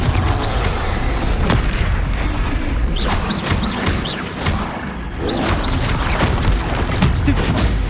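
Repeated spell blasts from the Confringo fire spell in the Hogwarts Legacy video game, loud booming bursts one after another over a dense, continuous wash of combat noise.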